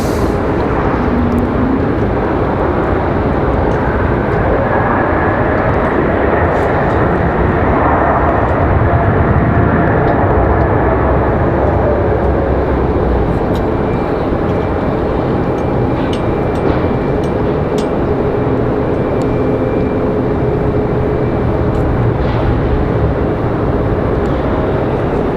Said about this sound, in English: It is our 757 back to Atlanta.